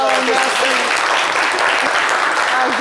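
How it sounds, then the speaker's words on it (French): A studio audience at a talk show breaks into loud, dense applause that holds steady throughout, with faint voices mixed into the din. "d'applaudir bien fort"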